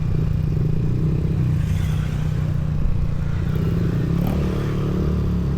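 A Yamaha Aerox 155 V3 scooter engine hums in a steady low drone while riding at night, with faint clatter and wind noise and a slight rise in revs partway through.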